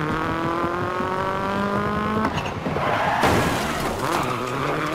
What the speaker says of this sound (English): I have a flat somewhere. I can hear it and feel